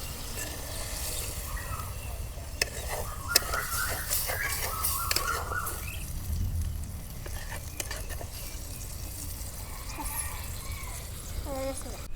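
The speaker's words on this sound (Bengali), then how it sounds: "মাংস কষা নেব।" Meat being stirred and fried in a pan with a spatula after water has been added during outdoor picnic cooking, heard as a steady low sizzle with scattered scraping stirs and clinks, while voices talk over it.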